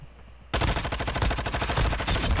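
Sustained automatic gunfire in a first-person shooter video game, a loud rapid burst that kicks in abruptly after a quiet start and keeps hammering without pause.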